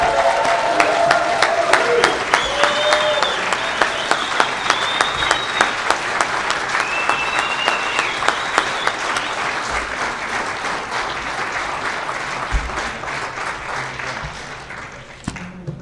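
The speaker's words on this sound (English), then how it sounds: "Please offer a raucous round of applause for Mr." At an awards ceremony, an audience applauds at length, with thick, continuous clapping and a few louder rhythmic claps standing out, gradually tapering off over about fifteen seconds.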